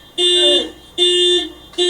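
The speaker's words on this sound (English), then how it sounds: "Turn the alarm off." An alarm sounds in repeated electronic tones, each about three-quarters of a second long with short gaps between them, loud and harsh and steady in pitch.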